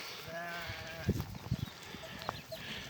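A flock of Akkaraman sheep heading out to pasture bleats repeatedly, several overlapping calls near and far, over a soft outdoor background.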